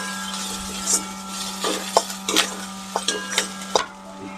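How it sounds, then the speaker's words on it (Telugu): Garlic cloves are stirred and fried in a kadai for tomato chutney. Irregular scraping and clacking strokes of a spoon sound close over a low steady hum, with no talking. "దీంట్లోనే వెల్లుల్లిపాయలు వేసుకుందాం. వేసి ఒకసారి కలుపుదాం. ఇది కొంచెం ఫ్రై అయ్యే వరకు కలుపుదాం."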